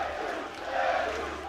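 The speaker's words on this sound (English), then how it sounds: "the crowd chanting Jesus" Crowd chanting at an IPF powerlifting competition in Sheffield, a sustained, dense roar of many voices filling the hall steadily for the whole moment, with no distinct speech standing out.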